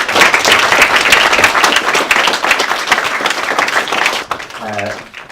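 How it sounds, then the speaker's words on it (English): Sustained audience applause at a live discussion event, dense and loud for about four seconds, then fading out as a voice begins speaking at the end. "I'd really like it if you could just join me in a round of applause, I guess, to congratulate the guys."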